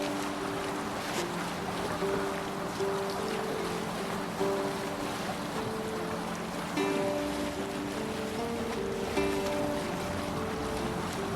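A sailing longship crosses the sea in Assassin's Creed Valhalla, with a steady wash of waves and wind and sustained tonal notes layered over the constant ocean noise.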